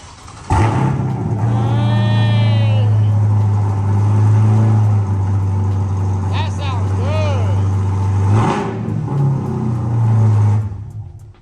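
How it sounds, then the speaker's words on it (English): A Corvette C8 fitted with a new exhaust cranks to life and settles into a deep, loud, close idle rumble with a few blips of revving, while people talk over it. "Now it's time to crank this thing up and see what this thing sounds like."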